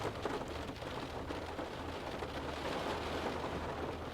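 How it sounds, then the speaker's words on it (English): Heavy rain falls in a steady, dense wash of noise that holds evenly from start to finish, close and fairly loud, with no voices. "But it is raining quite heavily,"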